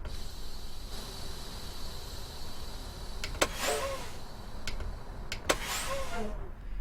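A truck in American Truck Simulator, fitted with a brake sound mod, idles with a low, steady hum, broken by several sharp hissing air bursts near the end.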